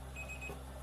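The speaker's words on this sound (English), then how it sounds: "it blinks for a second, and then you'll hear it beep" A Panasonic alkaline water ionizer gives a single short electronic beep, a thin high tone lasting under a second, faint against a low background hum.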